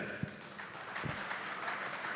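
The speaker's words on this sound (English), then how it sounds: "Let us have a clap for yourself." Scattered, faint applause from a panel discussion audience about real estate, a few claps in a large room.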